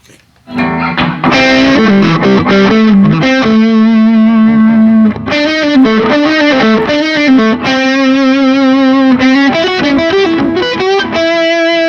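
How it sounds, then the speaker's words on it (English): Electric guitar played through a heavy distortion effect on a Line 6 HX Effects unit, loud sustained notes and chords with thick buzzing overtones, continuous for about eleven seconds. "we gotta find a better distortion for this"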